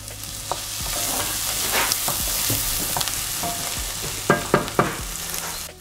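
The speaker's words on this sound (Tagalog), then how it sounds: "ilagay nyo na tong grated ginger. Ayan, tapos gisahin nyo lang ulit." Grated ginger sautés in a pan for butter chicken, a steady close frying sizzle with stirring scrapes and a few sharp clatters near the end, no voices.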